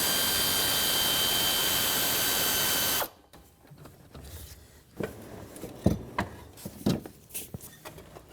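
Air ratchet spinning off a serpentine belt tensioner bolt on a 2004-2008 Ford F-150 with the 5.4L engine, a loud steady pneumatic whir that stops abruptly, followed by scattered clanks and quieter shop noises.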